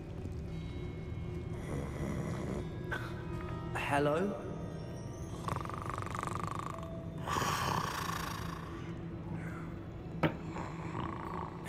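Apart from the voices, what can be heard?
snoring in the video game Hogwarts Legacy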